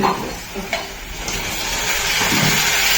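Onions frying in a pan during a cooking class, a steady loud sizzle with occasional stirring scrapes, continuous throughout with no talking.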